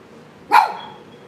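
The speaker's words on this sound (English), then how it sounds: "Why you barking so loud?" A single short dog bark, fairly close and loud, standing alone against a quiet background with no talking.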